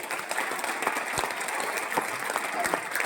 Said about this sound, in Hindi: तालियां बनती है जोरदार वाली